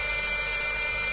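Nagawa NIC21K impact wrench, upgraded for 320 Nm, spinning freely in the loosening direction with a loud, steady high-pitched motor whine, close up and alone.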